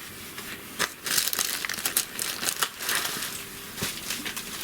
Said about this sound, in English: let me grab my BetterPress out of the bag here